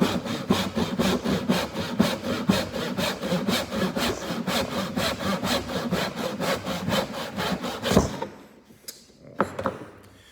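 A handsaw cuts through wood for a pencil box with quick, even rhythmic strokes, close and clear, then stops, leaving a few faint knocks and rustles at the end.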